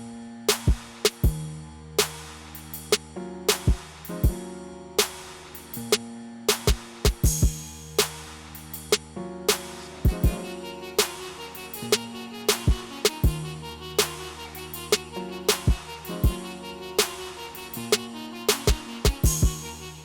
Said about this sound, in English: You know what? Let's add the keys.